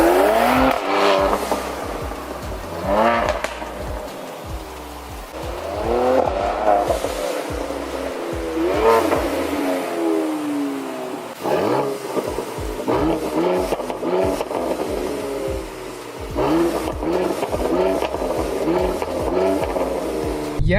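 A Mercedes-AMG C43 with the factory AMG performance exhaust revs repeatedly, each rise and fall of the engine note loud and close, with no talking over it.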